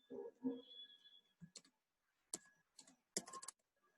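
Several short bursts of typing on a computer keyboard, quiet clicking keystrokes separated by pauses, heard close up in a calm room.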